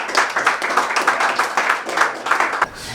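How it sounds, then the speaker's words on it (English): Applause from a Blaxland Redbacks Sunday league football team: a small group of hands claps steadily and fairly close for about two and a half seconds, then stops abruptly. "round of applause for our greatest ultras, Hancock and Renegade."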